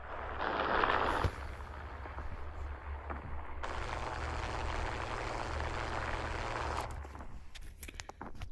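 Engine drone of a B-17 bomber in a video game, a steady moderate hum with a brighter layer that swells in partway through, then cuts off near the end.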